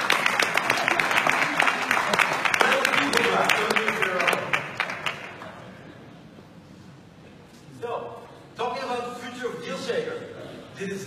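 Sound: audience applauding at event stage

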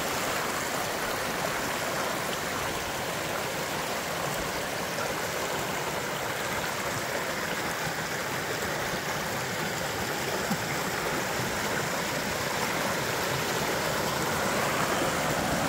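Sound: mountain creek flowing

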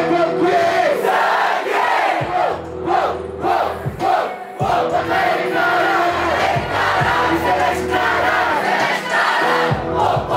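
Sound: audience shouting at a rap battle

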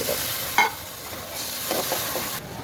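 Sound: stirring salt, ginger, garlic and spices frying in a pan

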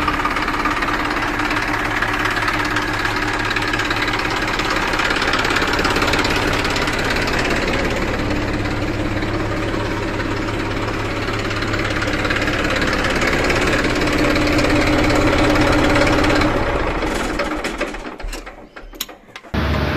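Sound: Massey Ferguson 1035 DI tractor engine idling

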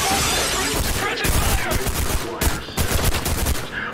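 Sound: gunfire in video game Trepang2

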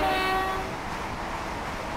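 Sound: train and train horn in the video game Train Simulator 22

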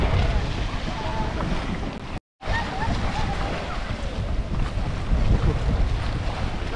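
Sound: strong wind and waves while kayaking on Lake Kenyir

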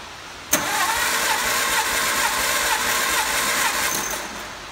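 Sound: 1954 MG TF engine cranking during compression test

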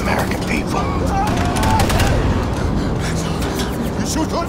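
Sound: gunfire in the Wolfenstein II trailer (video game)

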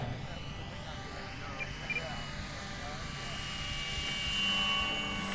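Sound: RC model P-51 airplane landing

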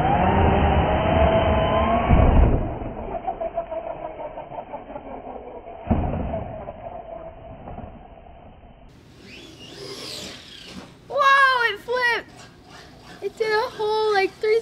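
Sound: JLB Cheetah RC truck driving over dirt

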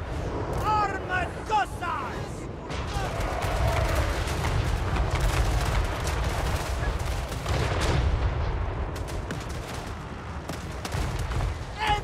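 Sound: gunfire from units shooting in Total War Warhammer 3 video game

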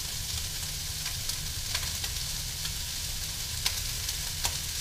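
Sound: stir-frying carrot and baby corn in a pan

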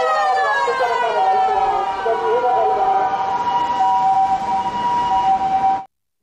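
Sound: toy ambulance siren

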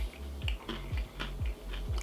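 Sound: chewing crunchy granola bar

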